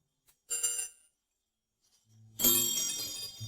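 A small bell hanging on an umbrella gives two short bursts of bright tinkling. A brief jingle is followed by silence, then a fuller, louder ring near the end over a low thud.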